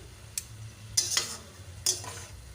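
Amadi fish curry with potato and eggplant being stirred in a pan, with three distinct scraping strokes over a soft, steady simmer.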